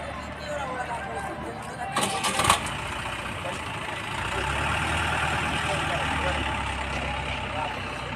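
A tractor engine cranks and catches at a grain market in Ganj Basoda on a foggy early morning, then settles into a steady low idle with a voice faintly present.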